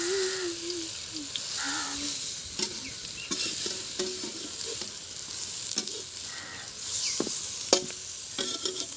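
Besan-coated cabbage pieces frying in hot oil in a kadhai, a steady close sizzle and hiss with occasional stirring scrapes and clicks throughout, no talk.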